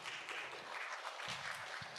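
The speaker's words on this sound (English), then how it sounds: "please give applause" Audience applause at a university entrepreneurship seminar on sustainability and the green economy, a steady wash of clapping from a crowd that fills the whole stretch at a fairly low level.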